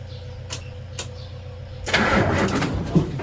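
A car engine, still running on old oil, is cranked briefly by the starter, catches with a rough burst and settles into an uneven idle, fairly close, with light clicks beforehand.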